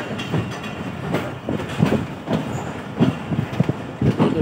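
A train stands at a railway station, giving off a low rumbling hum with irregular clanks and rattles, moderately loud and close, with no speech.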